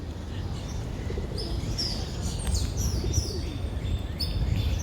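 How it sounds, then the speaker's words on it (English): Mourning doves coo softly outdoors amid scattered chirps and tweets from other birds, over a steady low background rumble, with no talking. "Morning doves."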